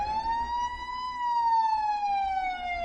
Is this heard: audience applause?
no